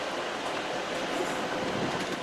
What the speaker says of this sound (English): Here comes the train with the cake